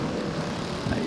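A Motorstar and two Raider 150 Fi motorcycles race past, a dense, steady engine roar with a droning buzz that stays loud and close throughout the brief moment.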